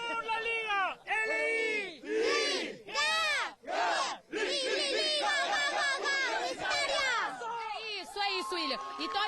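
LDU Quito football supporters sing a club chant in loud, rhythmic bursts of massed voices, the crowd near and rowdy with short pauses between phrases, ahead of the Sudamericana final against Fortaleza.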